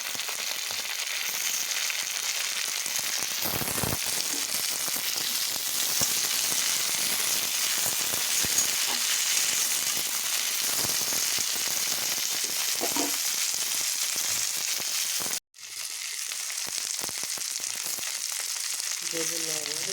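Beans and eggplant frying in a pan for a Bengali leafy greens dish, a loud continuous sizzle close up with occasional stirring clatter and a brief break near the end.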